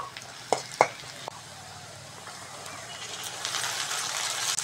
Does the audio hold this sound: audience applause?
no